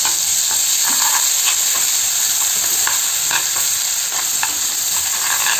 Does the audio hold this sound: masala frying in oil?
yes